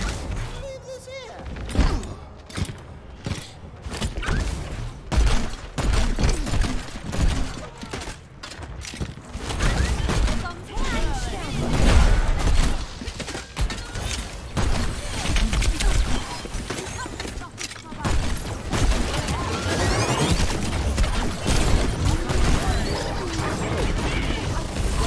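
Explosions from sticky bombs and concussive mines in the Overwatch video game, a dense run of booms, crashes and thuds with whooshing mechanical effects, loud and busy for the whole stretch, with talk mixed in.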